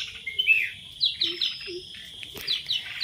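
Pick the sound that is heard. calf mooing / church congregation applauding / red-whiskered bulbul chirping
red-whiskered bulbul chirping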